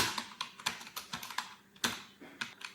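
Irregular keystrokes on a computer keyboard while filling in an Excel salary sheet, quick clicks in uneven bursts with short pauses, close and fairly soft, with no voices.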